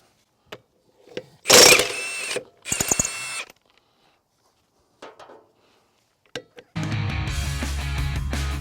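A Milwaukee M18 FUEL 1/2-inch high torque cordless impact wrench in bolt removal mode loosening lug nuts, with short loud hammering bursts separated by pauses and a final sustained run, close by with no talk.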